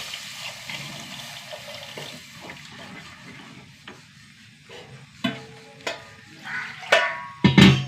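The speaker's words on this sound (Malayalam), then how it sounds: "ഇതിലേക്ക് ഒരു നെല്ലിക്ക വലിപ്പത്തിൽ വാളംപുളി വെള്ളം ഒഴിച്ചു കൊടുക്കുക." Tamarind water poured into a pan of fried spice powders for a tangy curry, a gentle liquid splash and stirring that builds into louder sizzling bursts toward the end, with no talk.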